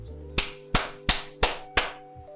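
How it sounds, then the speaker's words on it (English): Five sharp, evenly spaced hand claps ring out one after another, close and crisp, each with a short decaying tail, over a faint steady hum with no talking. "Clap it up, people, clap it up."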